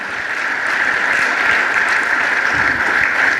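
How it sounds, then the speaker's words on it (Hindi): Audience applause at a company talk on a software revenue model, a steady loud wash of clapping from a crowd that holds evenly throughout. "जोरदार ताली तो बजा दीजिए"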